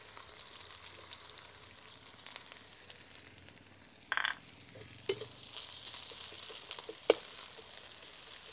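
Onion, green chillies and ginger-garlic paste sauté in a pan for mutton pulao, giving a soft, steady sizzle broken by a few sharp clicks and scrapes of a spoon stirring, no voices.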